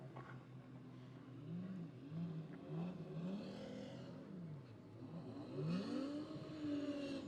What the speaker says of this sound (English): And Weir will come and get the checkered flag and do a celebratory lap.